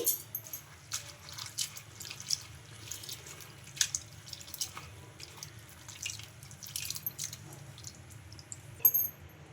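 Water splashes and drips in a bowl as flattened rice is rinsed, with soft irregular sloshing and small drops throughout, fairly close and unaccompanied by talk.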